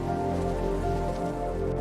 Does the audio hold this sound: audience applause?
no